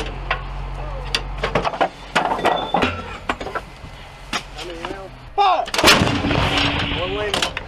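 US National Guard artillery pieces firing on a range, a series of loud, sharp booming shots with rolling echoes, some overlapping, while crew members call out commands in the background.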